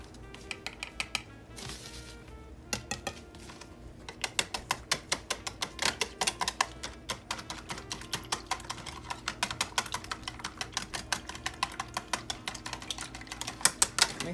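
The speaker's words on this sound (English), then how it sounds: "So we're going to mix up our eggs." Eggs whisked in a bowl for chicken dressing: rapid, rhythmic clicking taps of a utensil against the bowl, close and steady, running almost continuously with a few short pauses.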